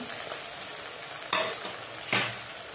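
Peas and carrots frying in oil for a Schezwan fried rice made from leftover rice, a low continuous sizzle broken by two sharp scraping stirs of a utensil against the pan.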